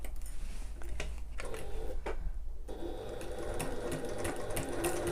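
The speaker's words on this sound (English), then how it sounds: "then we are going to sew along the top edge" A sewing machine stitches along the top edge of a fabric backpack, its motor whirring in steady runs broken by brief pauses, close and alone with no talk.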